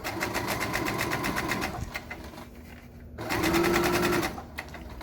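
A sewing machine stitches a seam on a fabric skull cap with a fast, steady mechanical hum and needle chatter, pausing briefly midway before running again, close and alone without speech.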